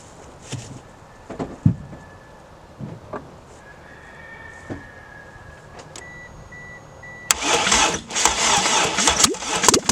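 A Mitsubishi Eclipse engine, unstarted for a year, cranks and catches near the end, roaring up loudly after several seconds of scattered clicks and faint beeping tones.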